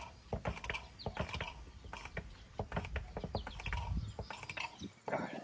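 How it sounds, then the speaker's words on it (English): A hand pump moves fluid into a TYM T1104 tractor during its 50-hour service, giving a close, steady run of clicking, ratcheting pump strokes with no talk. "Give it about 10 more pumps"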